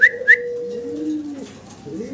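A pair of Deshi Bombai pigeons call, two short whistle-like notes up front followed by a soft gliding coo, close and fairly loud in a quiet setting.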